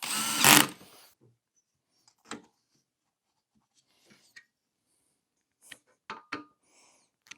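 Cordless drill on a low clutch setting driving bolts into a DIY battery box: a brief loud whir at the start, then faint scattered clicks and taps of bolts and tools with long quiet gaps.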